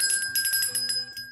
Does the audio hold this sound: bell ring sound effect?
yes